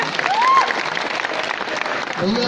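Audience applause fills a Bhojpuri film launch event in Mumbai introducing actress Aarya Bharadwaj. Dense, steady clapping runs throughout, with a brief whistle-like tone early on and a hint of voices near the end.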